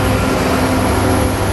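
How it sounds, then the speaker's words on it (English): A train passes along a railroad beside an abandoned spillway, a loud, steady rumbling roar of the rolling cars with no voices over it. "There's a train!"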